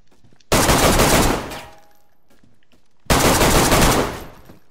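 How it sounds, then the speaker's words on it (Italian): Two loud, close bursts of automatic gunfire in a deadly video game firefight, each a dense rattle lasting about a second before fading, separated by a short lull. "mi ha sparato quasi vicinissimo"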